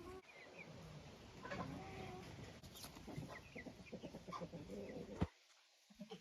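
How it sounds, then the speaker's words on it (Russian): Silkie and frizzle chicks clucking and peeping in a backyard poultry setting, soft scattered calls at close range over faint background noise. "Это цыплята шелковые, фризли."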